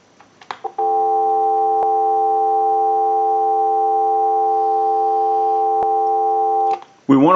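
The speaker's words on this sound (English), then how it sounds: "we'll give you some dial tone" A steady, continuous dial tone from a Western Electric 234G payphone hums for about six seconds, preceded by a few clicks and ending abruptly.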